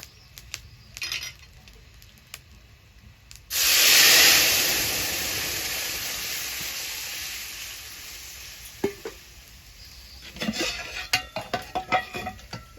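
Boiled dal poured into a pan of lightly fried ginger and cumin, setting off a sudden loud sizzle that slowly fades into a steady frying hiss, then scattered clinks of stirring in a vegetarian home kitchen.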